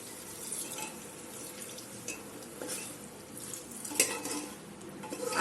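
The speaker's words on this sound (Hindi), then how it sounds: "और हम इसमें पानी डाल देंगे।" Water pours into a pan of soya chunk curry, a soft, fairly quiet splashing flow with occasional clinks of a utensil against the pan.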